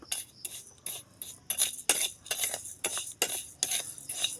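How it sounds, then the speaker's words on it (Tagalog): A spoon scrapes and clinks against a pan as rice is stirred until it browns, in a steady series of short metallic strokes, close and fairly loud, with no talk. "Halo-haloin lang natin yung bigas hanggang mag-brown."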